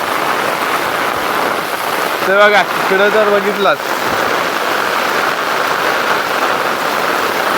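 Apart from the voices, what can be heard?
heavy monsoon rain pouring on a farm in Konkan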